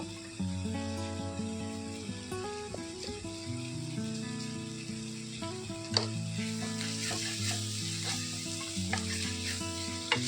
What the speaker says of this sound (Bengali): যতক্ষণ না তেল ছাড়বে ততক্ষণ এই মশলাটা আমি এবারে রান্না করে নেব।